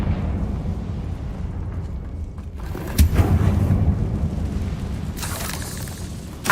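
Confringo fire spell exploding in the Hogwarts Legacy video game, a sudden booming burst over a rumbling background, followed by a sharper blast near the end.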